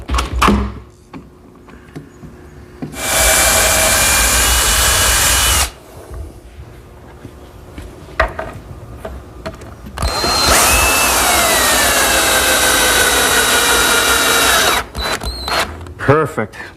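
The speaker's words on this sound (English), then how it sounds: "It's a step drill. It drills just the right diameter for the thread and for the shank of the screw." A step drill bores screw holes in wood in two sustained whining bursts of several seconds each, loud and close, separated by quiet handling clatter.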